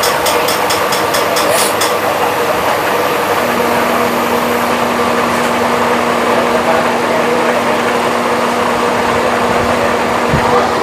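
Aluminium chopstick being drilled through with a power tool, a steady whining motor hum with a constant tone running throughout, fairly loud and continuous, some clicking at the start.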